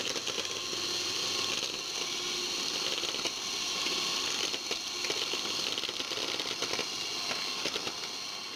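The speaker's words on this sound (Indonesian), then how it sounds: "ini dia sudah aku campur semuanya dan aku mulai untuk mixer ya guys" An electric hand mixer whirs steadily through pandan sponge cake batter, a continuous close mechanical buzz with faint rattling, running alone without talk.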